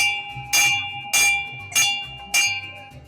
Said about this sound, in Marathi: घंटा आपल्याला दिसते आणि ही जर वाजवली तर तुमच्या मनातील इच्छा पूर्ण होणार